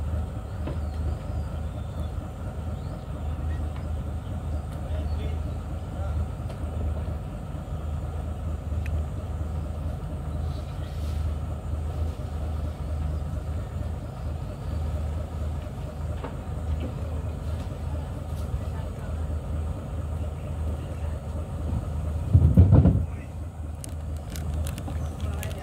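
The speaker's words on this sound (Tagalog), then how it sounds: "Isang hila lang, ganda ng makina." A big wooden boat's engine, started with a single pull of the cord, runs close by with a steady low, even drone. A brief louder knock or burst stands out near the end.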